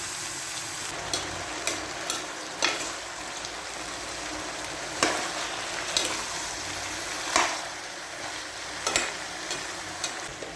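Potato and eggplant pieces frying in a pan, a close steady sizzle broken by regular scraping and clinking of a spatula as they are stirred, with no voices.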